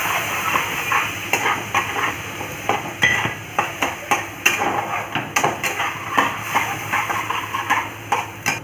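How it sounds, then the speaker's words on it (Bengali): Onion paste fries in a pan with whole cumin, its steady sizzle broken by rapid, rhythmic stirring strokes and sharp clacks of a spoon against the metal, close up and fairly loud, without speech. "এর মধ্যে আমি এবার পেঁয়াজ বাটাটা দিয়ে দিলাম।"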